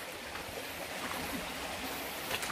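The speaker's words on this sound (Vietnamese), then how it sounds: "Và đây suối, suối này nước nhỏ, không to bằng suối hôm qua mình đi." A small, gentle forest stream runs steadily in the background, a soft continuous wash of flowing water with no voices over it.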